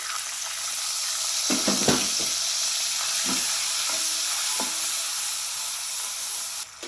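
A steady, loud sizzle hisses from a hot pan after water is added, with a few brief clinks and stirring sounds breaking through.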